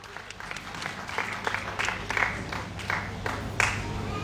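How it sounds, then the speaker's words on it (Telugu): Audience applause at a Telugu business plan meeting: steady crowd clapping with scattered sharper claps, moderately loud and continuous throughout, with no talk over it. "కాబట్టి బిగ్ రౌండ్ ఆఫ్ అప్లాజ్."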